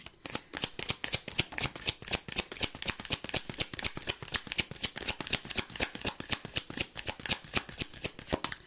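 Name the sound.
cards being shuffled and drawn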